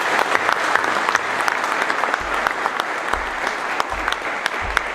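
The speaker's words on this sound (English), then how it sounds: "Let us give them a round of applause." An indoor crowd applauds steadily at a memorial trophy poster and theme song release event honoring the Assam Rifles, a continuous dense patter with a few low thumps underneath and no talking.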